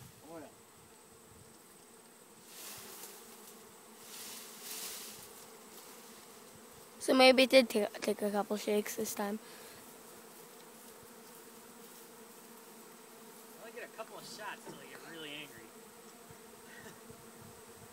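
Steady buzzing of a honeybee swarm being captured on a farm drones throughout, swelling into a louder burst of rustling and clatter midway, with a brief spoken remark near the end.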